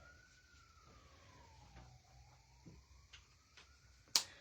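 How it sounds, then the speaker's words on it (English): A distant emergency vehicle siren wails faintly outdoors in a slow rise and fall, heard from indoors under quiet room noise, with a few soft ticks and one sharp click near the end. "sirens galore out there."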